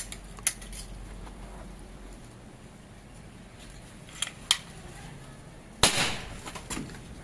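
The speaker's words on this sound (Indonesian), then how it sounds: "Dan tembakan ketiga." A few sharp, snappy pops from a PCP air rifle with a 30 cm barrel at 3500 PSI, over quiet background hiss; the loudest crack lands near the end, followed by a brief metallic ring.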